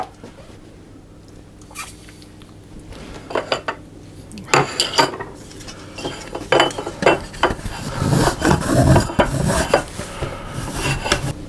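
A bar of chocolate rasped against a grater onto a plate for a Black Forest flan, with repeated scraping strokes that start sparse and grow faster and louder, plus light clinks of metal on the plate.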